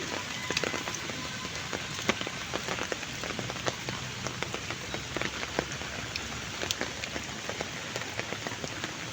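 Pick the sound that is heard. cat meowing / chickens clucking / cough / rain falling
rain falling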